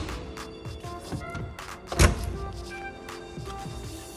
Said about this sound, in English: make sure this is closed. and close your bonnet.